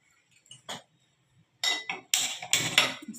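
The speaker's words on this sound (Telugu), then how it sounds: "స్టవ్లో కళాయి పెట్టి" Metal clinks and clatters as a kadai pan is set onto a kitchen stove to heat oil for frying murukku, a few close, bright knocks followed by a louder scraping clank.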